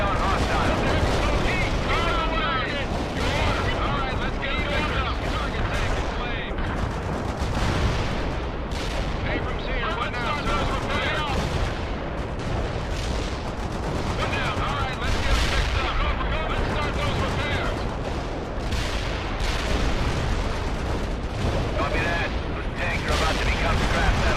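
Explosions from airstrikes and heavy gunfire in the World in Conflict game, a dense, continuous wall of booms and rattling shots with no letup, loud throughout.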